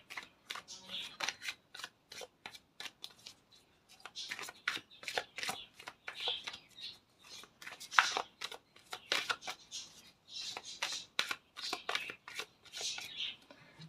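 Tarot cards are shuffled for a full moon reading, with repeated quick riffles and soft slaps in uneven bursts. The shuffling is close and continues throughout.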